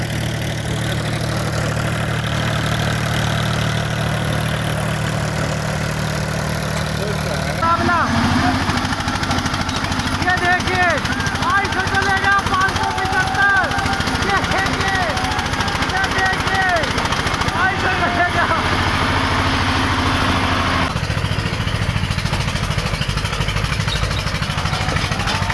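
Mahindra 575 and Eicher tractors roar continuously in a tug-of-war contest in Meerut, Uttar Pradesh, their engines loud and steady under constant crowd noise and shouting, with a change in pitch partway through.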